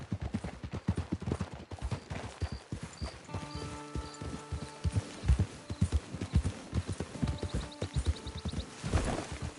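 Horse hooves clip-clopping in the Red Dead Redemption video game, a steady galloping rhythm of close, loud thuds carried on under music tones and a few faint distant gunshots.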